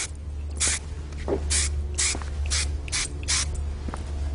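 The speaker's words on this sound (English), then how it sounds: "I'm going to use one of my favorite Big Sexy hairsprays." Big Sexy Hair Spray and Stay hairspray spritzed in a run of about six short, hissing aerosol bursts spaced roughly half a second apart, close by and alone during a haircut.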